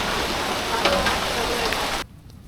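Steady rain hisses close by on a wedding haldi ceremony pandal for a couple of seconds, then cuts off suddenly.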